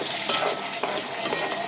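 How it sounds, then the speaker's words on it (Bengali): Onions with green chillies fry and sizzle in a pan for a chicken rezala, a steady hiss close by, broken by a few soft scrapes of a stirring utensil. "পেঁয়াজটাকে একটু ভেজে নেব"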